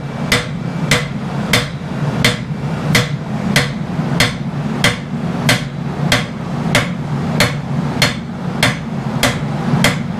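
A hammer strikes hot steel while a blade is forged in a blacksmith's shop, landing about sixteen sharp, evenly spaced blows over a steady low hum.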